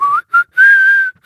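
A voice imitates a whistled melody, three short whistled notes with a longer held final one, clear and close, no other sound.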